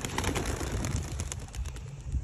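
Soft racing pigeon coos at a loft under steady outdoor background noise, faint and somewhat distant, with a few brief chirps.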